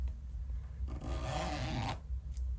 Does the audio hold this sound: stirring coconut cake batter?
no